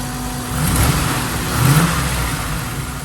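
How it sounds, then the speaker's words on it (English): The 5.0 V8 engine of a Land Rover Defender 90 50th Anniversary revs up twice in quick succession, a throaty rise and fall each time, close by, then settles back to a steady idle. "Give it a quick rev."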